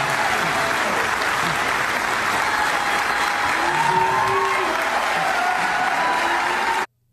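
A large crowd at an event in Sacramento cheers and applauds in a dense, steady roar of clapping and voices that holds for about seven seconds before cutting off abruptly.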